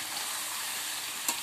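Meat braising in a pan gives off a steady, close sizzling hiss, with a single brief scrape of stirring near the end.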